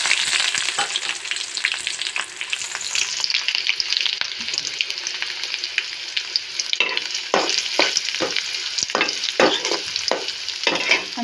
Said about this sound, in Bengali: এখানে আমি কড়াইয়ের মধ্যে তেল দিয়ে দিয়েছি, তারপরে তেজপাতা আর দারচিনিটা দিয়ে দিলাম। এবার দেব হচ্ছে পেঁয়াজ কুচি।